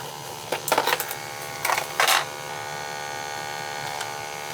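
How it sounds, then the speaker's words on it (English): Small battery-powered printer running after a battery change, short bursts of printing noise in a few quick clusters over a steady electrical hum, fairly close and moderately loud, with no talking. "it's printing a lot better now"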